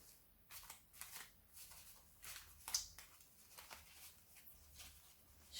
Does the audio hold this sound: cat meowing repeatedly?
no